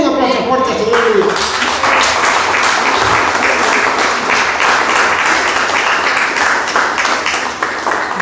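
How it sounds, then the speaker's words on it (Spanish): Loud, sustained applause from a congregation at a church service fills the whole stretch, with voices mixed in beneath the clapping. "Den un aplauso fuerte al Señor."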